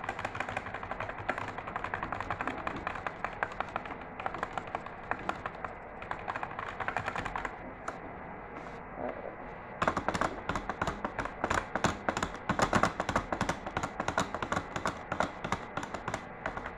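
Rapid, continuous clicking of a Sades Battle Ram computer keyboard being typed on, close and fairly loud, with a brief pause before the keystrokes return more forcefully.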